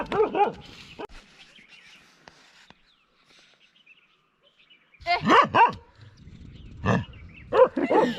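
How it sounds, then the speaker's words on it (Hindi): Dog barking outdoors in a Pahadi mountain setting, loud bursts at the start and again through the last few seconds, with a quiet gap in between. "तो हमारा कालू काफ़ी देर से भौंक रहा है"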